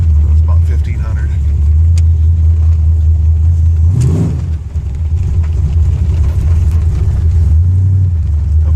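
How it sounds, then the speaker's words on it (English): A pickup truck fitted with a TCI 3000 rpm stall converter accelerates in first gear on a rainy road, its engine rumbling loudly and steadily close by, with a brief dip before the roar resumes. "I've had a couple people ask me what it's like driving around with 3000 stall in my truck."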